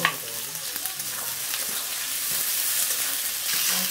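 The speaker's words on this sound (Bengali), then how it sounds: "মশলাগুলো ভালোভাবে কষিয়ে নিচ্ছি" Spices fry and are stirred in a pan while cooking duck curry, giving a steady close sizzle with light scraping strokes, swelling a little louder toward the end, no voices.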